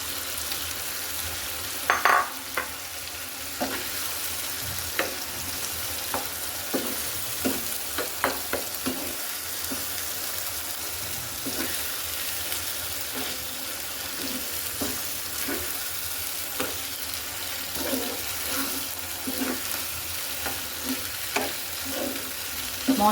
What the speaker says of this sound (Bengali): মশলার সাথে কিন্তু কষানো মশলাটার সাথে আমি ওলকপিগুলোকে কিন্তু ভালো করে মিশিয়ে নিচ্ছি